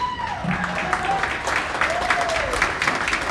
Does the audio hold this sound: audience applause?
yes